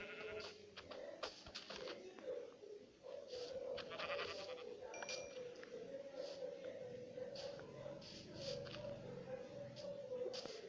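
A sheep in the video game Minecraft bleats repeatedly, a nasal wavering call rising over quiet background clicks and faint game sounds, with some scattered short noises between the bleats.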